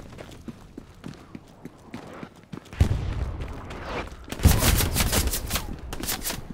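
Gunfire in the World War II shooter Hell Let Loose during a squad match around Carentan, scattered shots at first, then dense bursts of rapid fire at mid distance.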